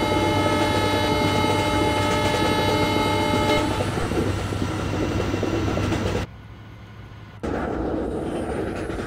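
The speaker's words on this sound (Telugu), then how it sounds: "హార్న్ కొడుతూ ఉండాలి" A WDG4 diesel locomotive in Train Simulator Classic sounds a long, loud sustained horn with rich tonal harmonics over rolling rail noise, then the horn stops and only the running train remains.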